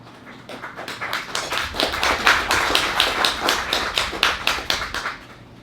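A small audience at an open mic poetry reading claps for about five seconds, a modest burst of hand claps that swells and then fades, with no voices over it.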